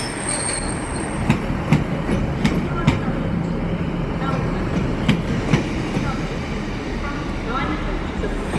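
Train pulling in to platform 2 at Blaydon station, a steady rumbling roll with repeated clicks and clacks from the wheels and faint squeals, heard close throughout, with a voice speaking over it.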